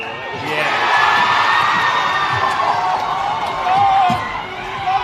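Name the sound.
crowd cheering at U20s rugby test match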